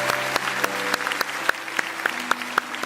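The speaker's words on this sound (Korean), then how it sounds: "큰 박수로 한 번 더 격려해 주시면" Steady clapping from a church congregation on New Year's Day, dense and continuous with sharper individual claps popping out, moderately loud throughout.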